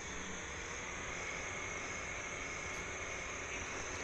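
Tractor engine in Farming Simulator 16, a steady, faint, even drone with a high whine on top, continuous and unchanging with no talk.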